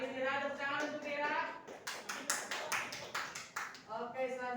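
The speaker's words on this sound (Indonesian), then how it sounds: "Tepuk tangan untuk Rira." Clapping in a classroom for a student: a short burst of several sharp claps in the middle, with a teacher's voice talking before and after.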